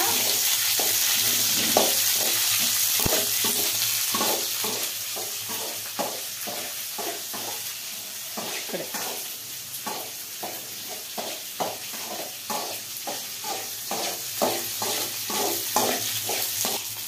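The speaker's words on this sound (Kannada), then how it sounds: "ಈಗ ನಾವು ಕ್ಯಾಪ್ಸಿಕಮ್ ಹಾಕೋಣ, ಫ್ರೈ ಮಾಡ್ಕೊಳ್ಳೋಣ" Capsicum stir-fried with garlic in a pan, a steady broadband sizzle under a regular rhythm of spatula scrapes and stirs, close and moderately loud throughout, with no voices.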